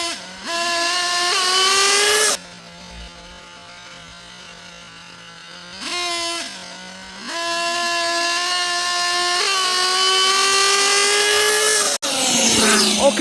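A Hotbodies Dirt Demon nitro RC car with a 2-speed gearbox screams through high revving passes, dropping and rising in pitch as it shifts and backs off, loud and close with no talk.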